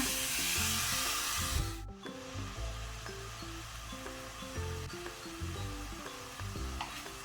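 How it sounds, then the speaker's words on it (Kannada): Mutton frying over a high flame for a pepper masala, a soft steady sizzle with scraping as it is stirred continuously, partly under background music. "ಕಂಟಿನ್ಯೂಸ್ ಮಿಕ್ಸ್ ಮಾಡ್ತಾ ಫ್ರೈ ಮಾಡುವ"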